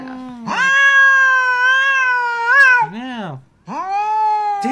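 House cat giving loud, drawn-out meows, two long wailing calls with a brief pause between, close and clear with no talking over them.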